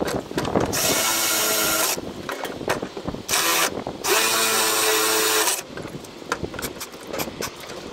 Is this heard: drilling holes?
yes